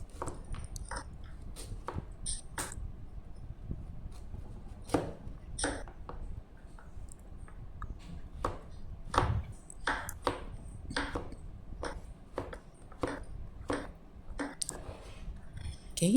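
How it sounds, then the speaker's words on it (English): A knife cuts carrots into 4 cm batons on a board for Nyonya achar pickle. Crisp, fairly regular chops repeat close by, spaced unevenly at times, with a quiet background. "So we do the same thing for our carrots. So our plan also is to cut it to 4 cm batons."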